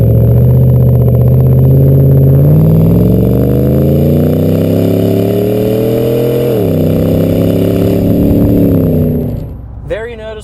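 A 2014 Silverado 1500 6.2L with an MBRP 3.5-inch single cat-back exhaust drones loud and deep as the engine revs up under load, pitch climbing steadily, dipping once, then holding before easing off near the end.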